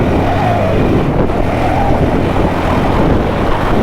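A 2023 Honda CRF450X dirt bike being ridden on a test ride, its engine a steady, continuous roar mixed with wind buffeting across the whole stretch, close and loud with no pauses.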